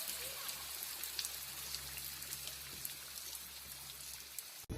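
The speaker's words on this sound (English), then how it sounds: "This video allows us to hear the water showering down from a waterfall in front of a small cave." Water showers steadily down from a waterfall in front of a small cave, a continuous soft splashing and trickling rush at moderate distance with a low steady rumble beneath.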